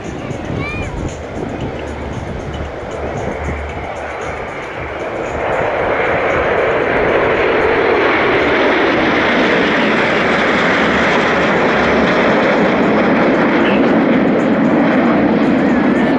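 Patrouille de France jets in an aerobatic display at the French-Flyair 2023 airshow in Trouville, a loud sustained engine roar that swells and holds steady, with an announcer talking over it.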